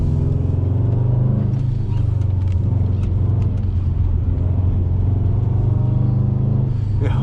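A 2003 Subaru WRX launches off the line on an autocross course, its engine rumbling loud and steady close by with a rising rev toward the end, no speech over it.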